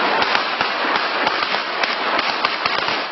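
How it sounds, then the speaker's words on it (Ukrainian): Firecrackers and fireworks bang in rapid, irregular bursts during a street clash between crowds, sharp cracks piling densely over a constant roar of crowd noise. "У відповідь полетіли петарди і феєрверки."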